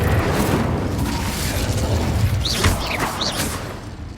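Incendio fire spell cast in Hogwarts Legacy, a loud rumbling fiery blast with dense low roar and crackle, followed by a few whooshing magical streaks near the end.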